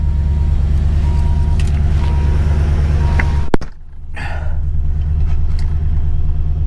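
A car at a Copart salvage lot idles with a steady low rumble, broken by a sharp click and a brief dip near the middle before the engine settles back to running. No one speaks.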